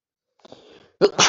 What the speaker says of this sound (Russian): Сейчас, подождите. Чихну.